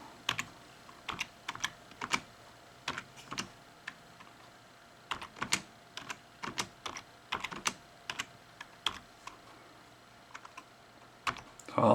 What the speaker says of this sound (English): You just start typing your programs in.